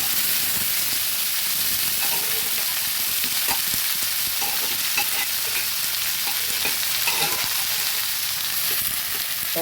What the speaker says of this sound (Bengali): এবার আস্তে করে দিয়ে দেব হালকা করে ভেজে নেব